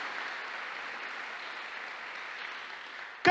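Church congregation applauding and glorifying during a service, a soft, steady hiss of distant clapping that holds evenly, ending in a brief louder burst.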